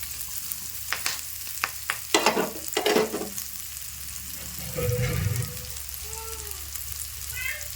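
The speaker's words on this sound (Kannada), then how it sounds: "ಇದೀಗ ಫ್ರೈ ಮಾಡ್ಕೊಂಡು ಮೆಣಸಿನ್ಕಾಯಿ ಉಳ್ಳಾಗಡ್ಡಿ ಸ್ವಲ್ಪ ಜಾಸ್ತಿ ಅಂದರೆ ಸ್ವಲ್ಪ ಫ್ರೈ ಮಾಡ್ಕೊಂಡು" Finely chopped onion and green chili frying in a pan while making aloo paratha filling, with a string of sharp clatters and scrapes from stirring early on, then a softer hiss of frying and faint background noises.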